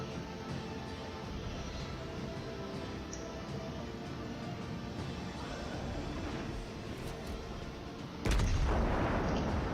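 Battleship Iowa's main guns firing in World of Warships, heard as a sudden loud booming blast near the end, after a steady dense rumble of battle noise and ambient engine drone.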